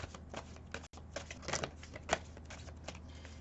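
Archangel tarot-style cards being shuffled by hand, a quiet run of soft riffling and tapping clicks with a few sharper snaps, close and alone without talk.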